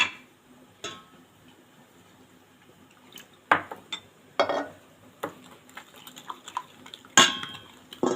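Yeast being stirred into a little milk for sesame bread dough, a spoon tapping and scraping against a bowl in scattered light clinks and soft liquid swirls, close and quiet with no talk.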